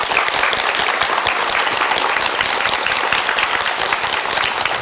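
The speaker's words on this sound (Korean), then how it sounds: "박수 보내드리죠." Studio audience on a Korean KBS television show clapping, a dense, even burst of applause lasting several seconds, with no talk over it.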